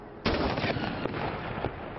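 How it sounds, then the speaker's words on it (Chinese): A World War I-era cannon fires a single loud, booming round in a London gun salute for Prince Philip. The rumbling echo trails off over the next two seconds, with no talking. "倫敦皇家炮兵軍營使用的是70幾年前菲臘和女王結婚的時候鳴放過的一戰時期大炮。"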